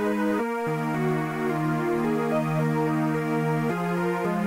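Dry synth patch from the Vital VST playing sustained, buzzy held notes that step between pitches with no effects applied, loud and steady without any voice.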